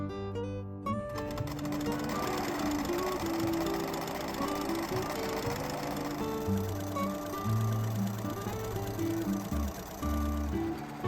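A sewing machine stitches the two legs of wide pants made from a kimono together, a continuous rapid mechanical whirring and clatter running steadily and loudly throughout, with no talk.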